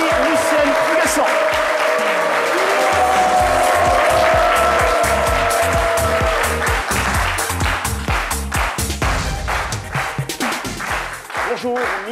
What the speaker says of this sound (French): Je demande les meilleurs applaudissements pour Marie-Lucienne Huguesson.